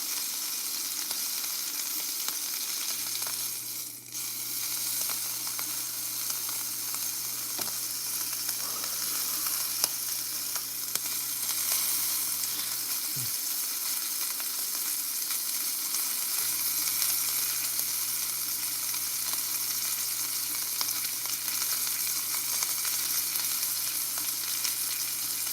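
A steak sears in a cast-iron pan with a continuous, loud sizzle that holds steady throughout, broken by a couple of brief clicks and a low hum.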